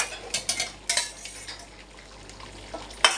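Potatoes go into chicken bhuna curry frying in a pan, with several clattering bursts of pieces dropping and being stirred over a steady sizzle. The sounds are close and fairly loud, and a final sharp clatter comes at the end. No one speaks.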